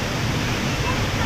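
Water of Harvalem Waterfall crashing down into the pool below, a dense, steady roar of broadband noise that continues without pause throughout.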